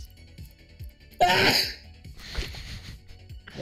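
A single sharp sneeze bursts out loudly and close, standing clear above background chatter, with people talking before and after it.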